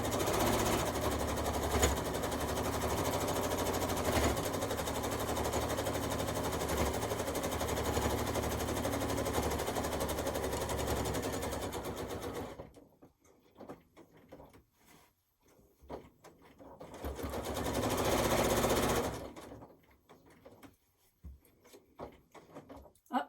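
A sewing machine stitches around an economy quilt block, running in a long steady buzzing stretch, then stopping and starting in short bursts at the corners before one more sustained run.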